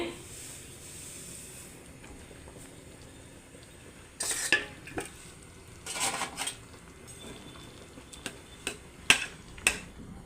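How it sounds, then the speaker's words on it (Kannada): Dry-roasted semolina is stirred into boiling water in a pot for vegetable upma, with sporadic sharp clinks and scraping of a spoon against the pan over a quiet background. "ನೋಡಿ ಚೆನ್ನಾಗಿ ಮಿಕ್ಸ್ ಮಾಡ್ತಿದ್ದೇನೆ ಯಾವುದೇ ರೀತಿ ಗಂಟುಗಳಿಲ್ಲ"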